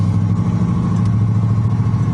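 A Lincoln Continental with a 289 engine and swapped AOD transmission drives in second gear, giving a steady, loud, low engine drone heard from inside the car.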